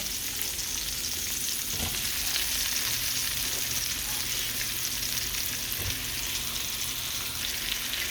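White onion and mushroom sizzling steadily in a stir fry pan, a dense continuous hiss with faint occasional scrapes and clinks, close and even, no voices.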